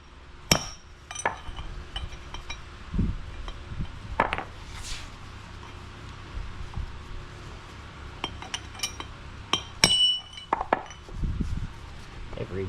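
A hammer strikes a brass punch while assembling a hub on a 1959 F-100 truck, giving sharp metallic clinks and thuds in irregular bursts with quiet gaps between them.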